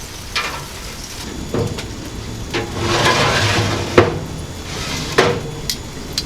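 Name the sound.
rotating metal shelves in an offset smoker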